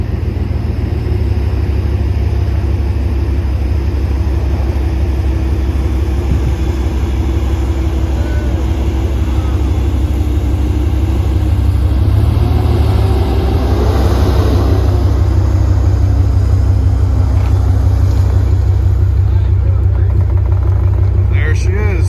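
A stuck tractor's engine rumbles and revs steadily while it is winched out, with a continuous loud low drone rising slightly near the end and voices talking over it.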